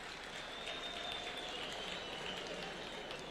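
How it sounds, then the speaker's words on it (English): A school crowd applauds the new patron, the President of Kenya, at a high school gathering, producing steady, faint and distant clapping throughout with no break. "Another applause for the patron."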